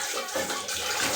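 Semolina being washed under running water, a steady close rush of liquid splashing through the grains for the whole moment, loud and continuous with no talk.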